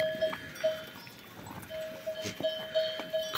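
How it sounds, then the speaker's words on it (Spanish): Goats on a farm with a ringing bell tinkling at a steady rhythm among scattered hoof and animal movement sounds, fairly faint and unaccompanied by talk. "Las cabras están espectaculares,"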